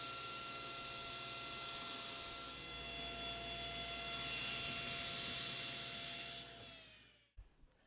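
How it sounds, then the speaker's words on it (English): A power saw ripping wood pieces to get a straight edge for joining, a loud sustained whine with steady tonal hum that swells as the blade cuts, then winds down and stops near the end. "run these through the saw so I have a nice straight edge"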